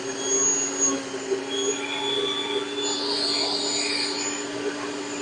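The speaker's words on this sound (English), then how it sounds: "So I have a little spatula and a knife so I can keep scraping." A small spatula and a knife scrape through churning butter in a steady, continuous rubbing rasp with a faint hum beneath, moderately close and without speech.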